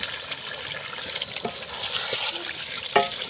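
Chicken and potatoes roasting in a pan give a close, steady sizzle, with a few soft scrapes and clinks of stirring and one sharper knock near the end, with no talking.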